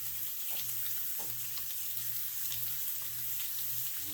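Butter and onions sizzle in a pan with olive oil in a steady, close hiss with faint crackles and occasional stirring scrapes, and no voices.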